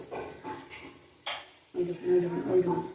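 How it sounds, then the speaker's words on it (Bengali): Teler pitha, traditional village rice cakes, fry in hot oil with soft bubbling sizzle and occasional stirring scrapes, moderately close, with brief background noises in between. "পুরো রেডি তেলের পিঠেগুলো এখন ভেজে নেব"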